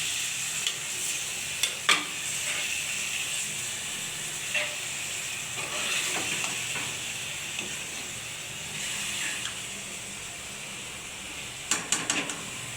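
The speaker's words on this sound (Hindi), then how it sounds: "तो 2 मिनट तक मैं ऐसे ही भूनूंगी" Minced meat keema sizzling steadily in a pan, a continuous hiss with occasional stirring clicks and scrapes, close and moderately loud with no talk.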